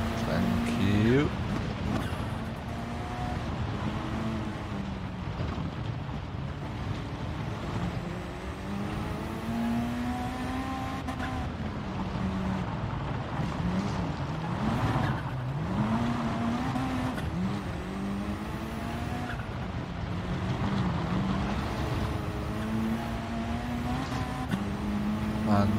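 A race car engine in Gran Turismo Sport drones steadily for the whole stretch, rising and falling in pitch as it shifts and revs, with occasional tire noise. Someone talks over it at times.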